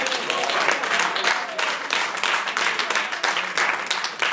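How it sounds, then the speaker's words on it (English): A church congregation claps its hands during a bishop's sermon, producing loud, dense, continuous clapping with voices mixed in throughout. "Somebody clap your hands."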